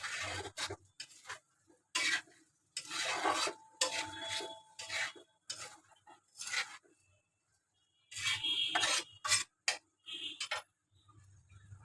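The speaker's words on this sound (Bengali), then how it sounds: "ভাজা ভাজা করে নেব ভুঁড়িটা।" Beef tripe stir-fried in a pan gives bursts of scraping and rasping from a spatula on the pan, coming in irregular clusters with quiet gaps between them.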